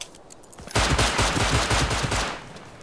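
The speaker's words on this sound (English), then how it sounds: "You're getting shot from behind too." Rapid gunfire in the survival video game Rust breaks out after a brief quieter lead-in, a loud, dense burst of repeated shots sustained for about two seconds.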